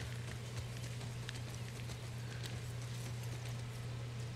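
Horse hooves clip-clopping at a steady walking pace in The Last of Us Part 2, an even rhythm of close, clear steps over a constant low hum and ambient game background.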